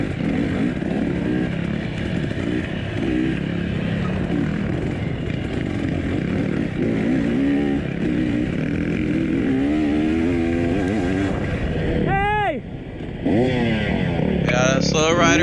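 Racing car engines droning in the TORCS driving game at Blackland Prairie Ranch, a loud continuous buzzing roar that rises and falls in pitch as cars accelerate, with a sharp whining sweep near the end.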